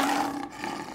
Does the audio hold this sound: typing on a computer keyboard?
no